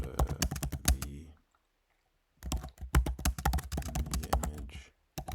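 Fingers type a short prompt on a computer keyboard in rapid bursts of clicky keystrokes, close and fairly loud, separated by a brief silent pause.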